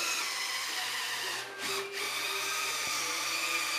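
Power drill driving screws through plywood into a bathroom floor, a steady loud whirring hum running almost throughout with two short dips where the motor eases off before resuming.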